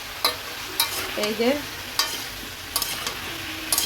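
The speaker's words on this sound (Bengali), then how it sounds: "আর চুলায় হচ্ছে মিষ্টি কুমড়া ভাজি।" Sweet pumpkin frying in a pan on a home stove, a soft steady sizzle with intermittent clicks of stirring and brief scrapes, heard close with a short spoken phrase.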